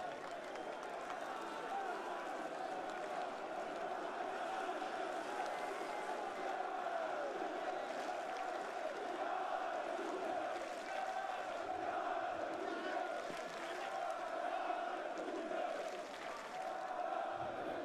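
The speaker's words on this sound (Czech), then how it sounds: "Máme tady krásný chorály na přání." Football supporters at Letná stadium chanting together in a large crowd, a continuous dense wash of many voices singing steadily throughout, fairly distant and reverberant, with no break in the roar.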